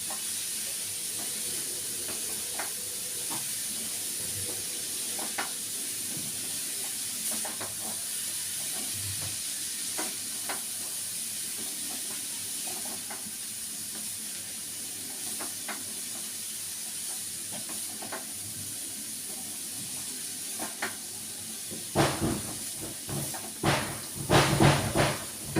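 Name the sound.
sautéing nutmeg in a pan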